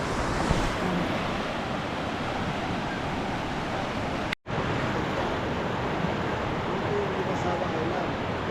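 Steady roar of sea waves washing onto the shore in the morning, broad and continuous with a brief dropout midway; no clear talk.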